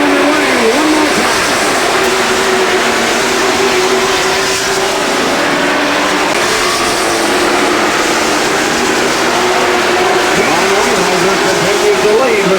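Stock cars in a Super Stock race roar off the green flag together, a loud dense engine drone that holds steady throughout, with a commentator talking over it.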